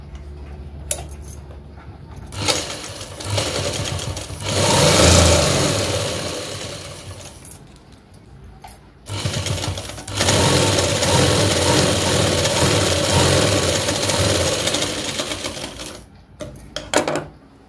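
A domestic sewing machine stitching a test seam while the upper thread tension is adjusted, giving a rapid mechanical clatter. It comes in a few runs of several seconds each, separated by short pauses.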